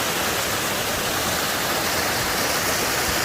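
Water pouring down at a waterfall at an outdoor picnic spot in Gadap Town, a steady dense rushing roar filling the whole clip, close and loud with no break or voices.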